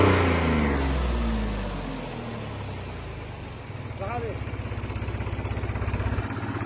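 A tractor engine runs steadily with a fast, throbbing low rumble, growing louder after a few seconds, near mud, with voices talking faintly over it.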